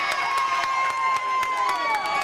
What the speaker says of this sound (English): The crowd really liked that.